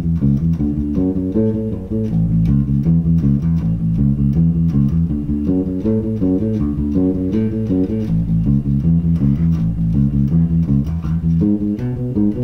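Rock and roll bass line built on major triad shapes, walking through repeating low notes in an even driving rhythm under a full band, loud and steady without talk.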